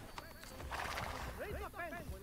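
A horse whinnies in the video game Assassin's Creed: Brotherhood, a short high neigh with wavering pitch, amid clopping and a voice speaking nearby.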